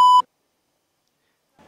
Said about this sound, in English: You will hear a beep at the end of the entry.